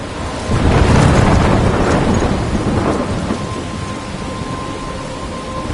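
A thunderstorm in the video game Life is Strange, with a heavy rumbling thunder roll over steady pouring rain that fades slowly, loud and alone without voices.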